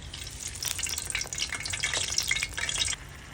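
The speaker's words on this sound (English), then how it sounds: "So we have a Scotch bonnet here. I'm going to just add this with seasoning oil." A Scotch bonnet pepper fries in hot seasoning oil, crackling and sizzling densely and steadily, close and fairly loud, before the sound eases off just before the end.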